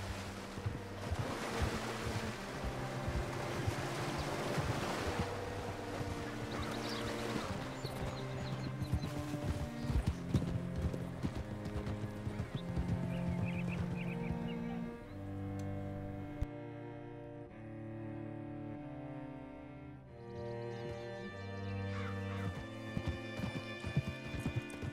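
Horse hooves clip-clop steadily in Red Dead Redemption 2, a continuous rhythmic gait under loud game music with wind and water ambience.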